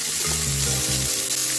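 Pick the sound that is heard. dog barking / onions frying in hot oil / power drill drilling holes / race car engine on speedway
onions frying in hot oil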